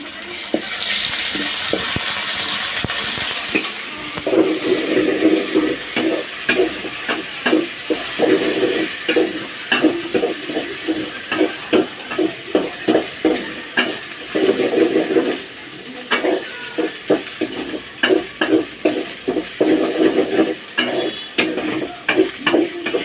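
A loud sizzle in a hot pan, then steady frying punctuated by rhythmic scraping and clacking of a spatula stirring the food.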